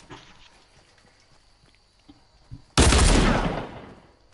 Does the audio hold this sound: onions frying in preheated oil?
no